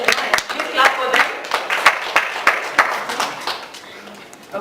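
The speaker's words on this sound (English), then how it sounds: "Please clap for them." An audience claps at a personal branding coaching session, a loose run of separate sharp hand claps from a small group, uneven in rhythm and fading toward the end.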